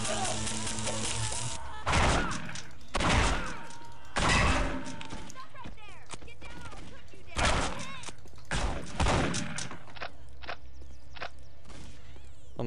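Gunshots in the video game Postal 2 ring out as several loud, sharp bursts spaced a second or so apart, mixed with game noise and thuds, with speech-like sounds between the blasts.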